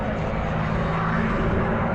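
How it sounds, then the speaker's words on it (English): P-51 Mustang with a Rolls-Royce Merlin engine flying overhead at an airshow, a steady, loud, continuous engine drone holding throughout without break. "it has a distinctive sound of a Rolls-Royce Merlin engine"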